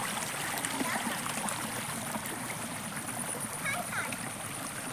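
A river flows in a steady, unbroken rush of water, with a constant broadband wash that stays close and fairly loud from start to finish.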